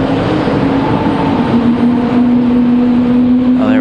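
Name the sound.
JetBlue Airbus A220 jet engines starting up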